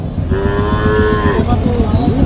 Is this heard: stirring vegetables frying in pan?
no